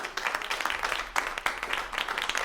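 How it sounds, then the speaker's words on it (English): Audience applause at a neighborhood association meeting, a steady spread of many hands clapping with a couple of louder surges, fairly close and with no talking over it. "I want a round of applause for Esther, who has worked tirelessly."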